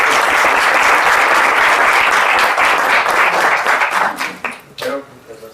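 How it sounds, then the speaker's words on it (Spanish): An audience applauds to welcome a lecturer at a particle physics talk, dense and loud, sustained for several seconds before fading into a few scattered claps. "recibamos con un aplauso al profesor Ignacio Monroy"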